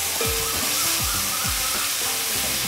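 Onions and curry leaves fry in hot coconut oil in a pan, giving a steady, close, dense sizzle that crackles without pause and has no talk over it.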